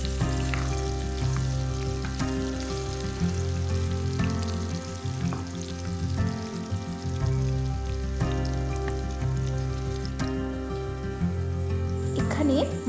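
Potato pieces sizzle steadily in a pan with salt and turmeric while a mutton curry is being prepared, the frying hiss running continuously beneath music and a speaking voice.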